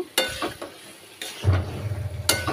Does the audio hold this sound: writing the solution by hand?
no